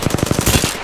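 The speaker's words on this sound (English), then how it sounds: "I'm taking fire" Automatic weapon fire in the battle royale video game Apex Legends comes as a rapid, loud burst of about eight shots in quick, even succession. It ends in a brief blurred tail.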